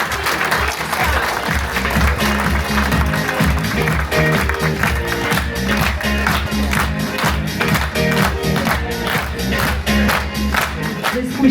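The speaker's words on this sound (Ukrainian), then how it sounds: "ваші оплески колективу" At a charity jubilee concert for an art school's 70th anniversary, a large audience applauds the school collective with loud, sustained clapping from many hands, alongside music and rhythmic accents throughout.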